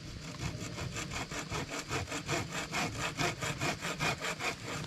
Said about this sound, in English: So once again, we can use the buck saw